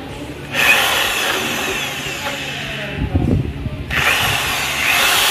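A power drill whirs in loud bursts while working on a rusted, broken spark plug in a Yamaha Aerox V2 scooter, then stops briefly with some clanking before starting up again.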